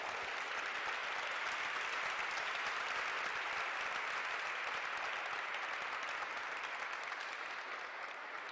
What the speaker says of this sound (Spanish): Muy merecido el aplauso